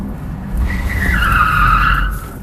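Tires squeal in a rising, wavering screech over a low roar as a Tesla Plaid in track mode slides through a drift, loud and close.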